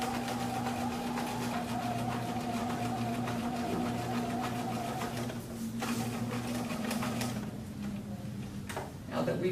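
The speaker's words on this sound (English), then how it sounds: "we're stitching our 1/2 inch seam allowance" A sewing machine runs a steady humming, ticking stitch along a 1/2 inch seam allowance for a welt seam on a garment, continuous and fairly soft throughout.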